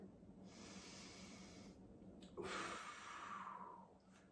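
During a lumbar spine exercise for seniors, a person breathes slowly and softly: a long, airy exhale, a brief pause, then another breath with a slight nasal edge, faint and close, with no talking.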